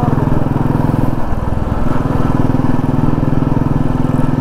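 A BMW S1000RR sport motorcycle pulls away in first gear, its engine droning loud and close with a steady buzzing revving note that rises briefly mid-way.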